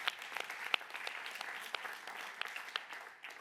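Applause from the audience at a European awards ceremony for education and training, heard as faint, distant clapping with scattered sharper claps throughout.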